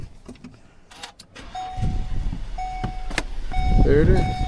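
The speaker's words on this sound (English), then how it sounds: "Car is running." A repaired Volkswagen car with a fixed coolant leak starts up and idles, the engine rumbling low beneath clicks, a rising mechanical whine and people talking nearby.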